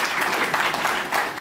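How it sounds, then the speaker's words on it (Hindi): An audience in a hall breaks into loud, dense applause at a comedy show, a brief wash of many hands clapping at once with no talking over it. "एक बार पूरा सदन मुझे ताली बजा के आशीर्वाद दे"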